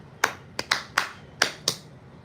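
Six sharp, close hand claps in an uneven rhythm, each one bright and distinct against a quiet background hum.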